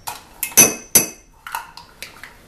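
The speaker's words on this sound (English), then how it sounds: "just scoop that out of the container and flattened it with the back of the spoon to measure" A spoon scoops shortening out of a container, making several sharp, close clinks and taps against the sides, spaced irregularly with short pauses between.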